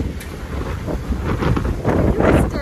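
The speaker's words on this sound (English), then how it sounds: "It's so windy." Strong wind buffets a microphone outdoors on a freezing cold day while someone walks to work, with loud gusty rumble building toward the end.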